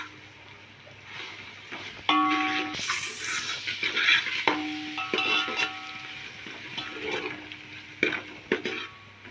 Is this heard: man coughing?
no